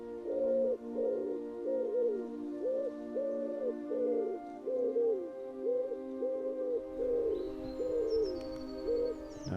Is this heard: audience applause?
no